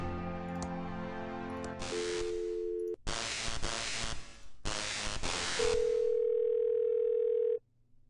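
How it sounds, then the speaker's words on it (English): A telephone dial tone plays in the point-and-click game Thimbleweed Park. Steady electronic tones are broken up by clicks and short bursts of noise, with a final long tone that cuts off. "It's a phone."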